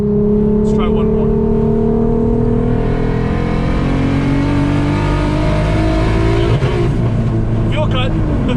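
A fully built R30 VR6 with boost, swapped into an Audi RS3, revs loud and close, its pitch climbing steadily before stuttering against the tuner's fuel cut limiter near the end, with a voice over the engine.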